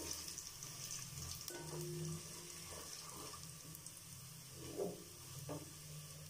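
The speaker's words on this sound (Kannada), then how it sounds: "ಇಷ್ಟನ್ನು ಹಾಕ್ಕೊಂಡು ಎಣ್ಣೆಯಲ್ಲಿ ಸ್ವಲ್ಪ ಹಾಗೆ ಫ್ರೈ ಮಾಡ್ಕೊಳ್ಳಿ." Fennel seeds and other spices frying in oil in a home kitchen give a steady, hissing sizzle that continues throughout, with a few soft clinks and no talking.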